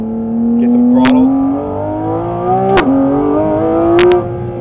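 A Porsche GT4 RS engine hums at steady revs through a downshift to first gear, pitch sagging and climbing with brief sharp blips, loud and close inside the cabin, with a voice talking over it.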